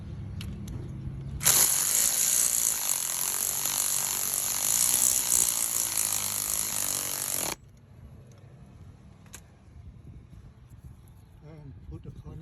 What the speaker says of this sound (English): And tightening bolt.